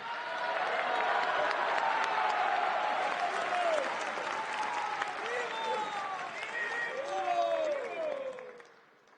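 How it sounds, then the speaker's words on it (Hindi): A large audience claps along in steady rhythm during devotional chanting at a gathering marking Srila Prabhupada's 150th birth anniversary; the clapping is loud and continuous, with sung voices gliding above it until it fades at the end. "और अभी जब आप कर रहे थे और मैं ताली बजाना शुरू हो गया"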